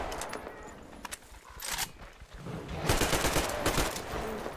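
Gunfire in the video game Metro Exodus, with rapid bursts of shots and scattered single cracks, loud and close, over steady game background.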